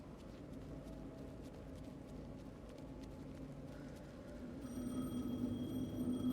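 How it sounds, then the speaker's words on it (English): A telephone rings in the video game Alan Wake 2, its electronic tone entering near the end over a steady, low ambient hum. "Phone? The phone again."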